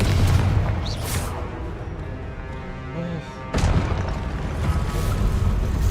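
A Confringo fire spell explodes in Hogwarts Legacy, a loud booming blast that bursts in over continuous game noise and rumbling effects.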